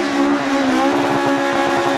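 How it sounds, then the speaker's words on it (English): A Peugeot 106 rally car races along a stage at the Lark in the Park Rally, its engine noise steady and fairly loud through a short, continuous pass. "It seems that Jared Mullen is pointing his 106 in the right direction anyway"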